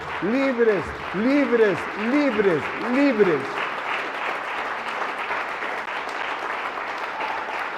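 A church congregation claps loudly and continuously during a deliverance prayer service, sustained dense applause while a voice speaks over it with rising and falling intonation.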